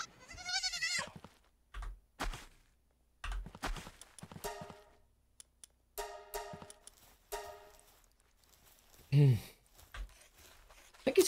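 Sheep bleat in the Palworld video game, a short wavering cry near the start and a louder bleat later, between bursts of game sound effects and quiet gaps.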